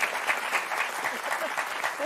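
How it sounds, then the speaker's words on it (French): Studio audience applause on the French TV word game show Motus, a steady dense burst of clapping filling the short moment. "Et je crois qu'on peut applaudir très fort Marie et Martine."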